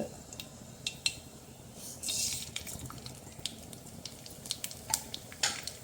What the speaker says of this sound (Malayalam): നമുക്ക് കടുവ് പൊട്ടിക്കാം